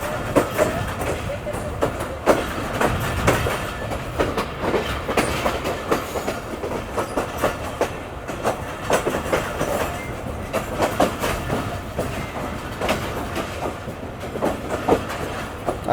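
The Karachi Express rolls along the rails with a steady clickety-clack rhythm and rumbling carriages, heard from on board over a continuous loud bed of wheel and track noise.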